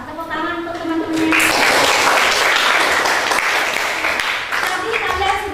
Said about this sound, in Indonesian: Tepuk tangan untuk teman-temannya